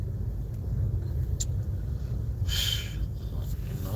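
Standstill road traffic gives a steady low rumble of idling car engines, with a brief faint hiss from a passing vehicle partway through.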